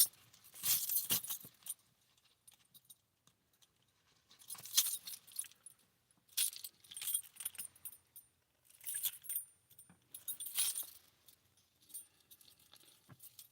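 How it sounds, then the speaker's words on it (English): Keys jingle and jangle in several separate bursts, close and fairly loud, with quiet gaps between them and no talking. "That jingling is the keys I'm looking for."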